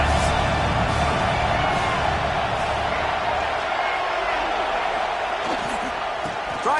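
A dense stadium crowd roars steadily in a college football video game, loud and continuous, rising behind the defense on a third down, with scattered whoops and a commentator talking over it.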